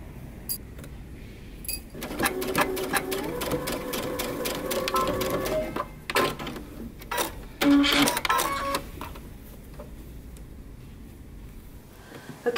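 A sewing machine stitching across the top of pleats on wide leg pants runs in a steady burst after a quiet start, pauses briefly, then stitches again before stopping.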